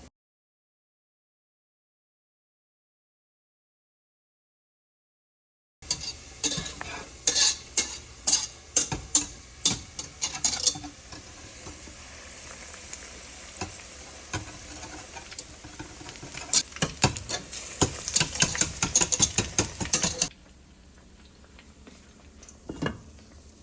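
Eggplant frying in hot oil on a stove, with a steady sizzle and busy, irregular clatter of stirring. It starts after several seconds of silence, runs close and fairly loud, then eases into a softer hiss near the end.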